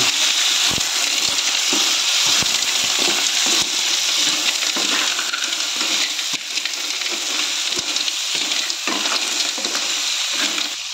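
Snails sautéing with onion and ginger in a hot pan: a loud, continuous sizzle with scraping taps of a stirring utensil throughout.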